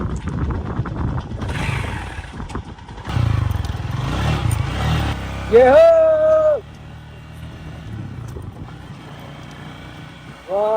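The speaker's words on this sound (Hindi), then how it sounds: "तंजानिया के जंगलों के अंदर अनुभव ले रहा हूँ बाइक चलाने का" A motorcycle carrying two riders through a Tanzanian forest on red dirt, engine droning and revving unevenly with clatter over rough ground, while a man calls out briefly.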